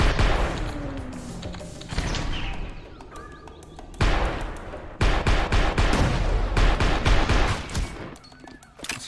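Rapid volleys of gunfire from the shooter video game Maximum Action, with dense bursts of shots and heavy impacts that start and stop abruptly, loudest in the second half.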